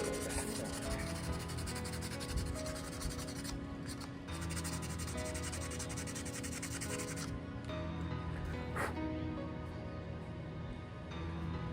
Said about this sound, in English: Let's sand out just.